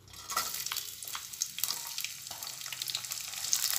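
Onion hitting hot oil with urad dal in a pan while cooking a ridge gourd dish, raising a fairly quiet, continuous hiss and crackle that builds slightly with small irregular pops.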